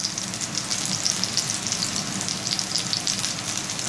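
Meat browning in a hot frying pan in a restaurant kitchen, giving a steady close sizzle that crackles on throughout with no pauses and no voices.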